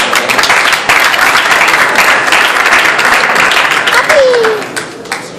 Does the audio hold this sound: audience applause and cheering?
yes